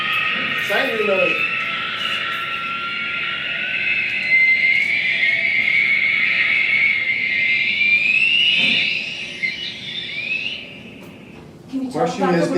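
An animatronic spider plays a drawn-out screeching roar recorded from a dragon ride in Nashville, loud and sustained for several seconds before fading, with brief talking at the start and end.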